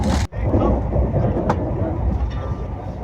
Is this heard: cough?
no